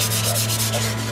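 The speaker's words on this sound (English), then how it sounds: "sandpaper out any rust, any scent, paint flakes that are left over like that" Steady rhythmic rubbing of sandpaper scrubbing rust and paint flakes off a surface, close and continuous over a constant background hum, with no voices.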